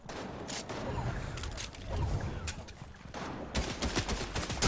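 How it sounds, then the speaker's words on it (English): Gunfire in Fortnite, scattered bursts and single shots of varying distance mixed with other game noise, moderately loud throughout. "Got the other person shooting me now too."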